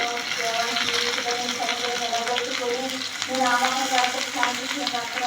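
Sliced onions and green chillies sizzle steadily in hot oil, a continuous crackling fry that stays loud and even, with scattered pops and a slight surge toward the end.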